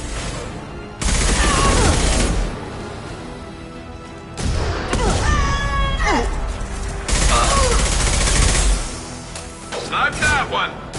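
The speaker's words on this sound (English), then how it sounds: "Firing concussive shot." Concussive shot and gunfire in Mass Effect 2 against Eclipse mercs, loud bursts of weapon fire and impacts arriving in several heavy clusters, with a voice talking and grunting between them.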